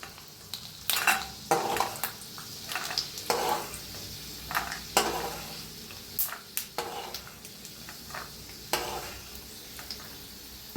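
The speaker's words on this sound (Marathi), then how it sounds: "छान असं भाजायला लागलंय ते बघा शेंगदाणा." Peanuts roasting in hot oil in a pan, with steady sizzling broken by repeated scraping and stirring clatters of a spoon against the pan, close and moderately loud, no talk.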